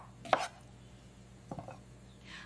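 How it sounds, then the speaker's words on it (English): Tomatoes being chopped with a knife in a kitchen, a few soft separate knife strikes on a cutting board, quiet and close, with no talking. "I am chopping tomatoes."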